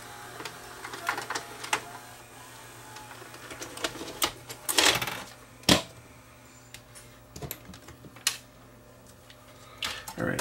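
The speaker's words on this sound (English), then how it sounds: "Just stop this and take the tape out." A Toshiba W704 VCR mechanism clicks and whirs as it ejects a tape, with sharp mechanical clunks and rattles scattered over a low hum, close by and moderately loud, with occasional faint speech.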